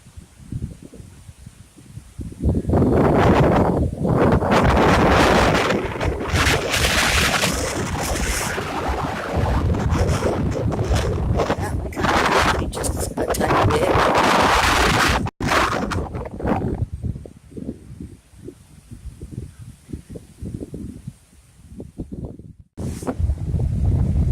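Strong gusting wind from Tropical Storm Michael roars loudly against the microphone in long surging blasts, easing briefly between gusts, with no voices.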